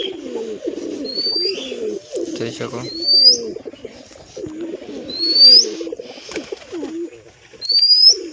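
Pigeons kept in an enclosure coo in low, rolling bursts through most of the stretch, close and fairly loud. Someone talks over them, and faint higher chirps come and go.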